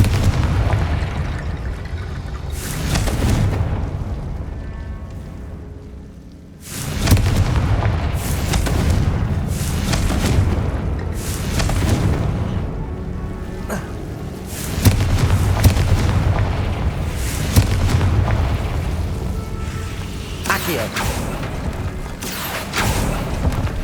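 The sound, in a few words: explosions from Bombarda and Confringo spells in video game Hogwarts Legacy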